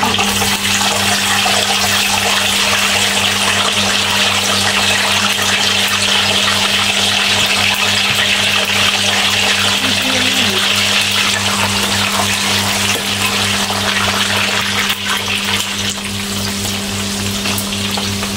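Pea eggplant (terong pipit) frying in hot oil in a pan, a loud, continuous close-up sizzle and crackle with a steady hum underneath, holding throughout.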